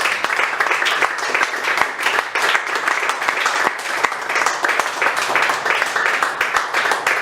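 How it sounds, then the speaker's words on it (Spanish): A church congregation applauds during a Spanish-language service, dense sustained clapping from many hands for several seconds, loud and close with faint voices mixed in. "De un aplauso al Señor."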